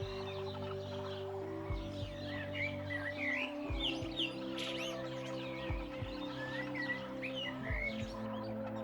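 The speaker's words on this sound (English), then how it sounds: "When many birds move together, the group appears to behave like a single body." Many birds chirping and calling together in an African wilderness, a dense overlapping chorus of high tweets over a steady low hum, moderately loud and continuous without speech.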